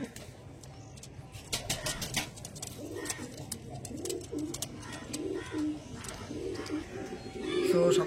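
Domestic pigeons coo repeatedly at close range, soft throaty calls rising and falling over several seconds in a quiet setting, with faint chirps around them.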